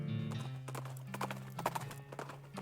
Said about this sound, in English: Trent, this is my horse, Squirrely D.